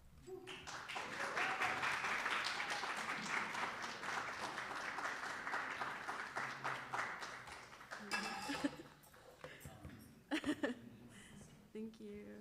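Sustained audience applause follows a poetry reading at an undergraduate poetry and open mic night, a dense steady wash of clapping for about eight seconds that thins into scattered claps and faint murmuring.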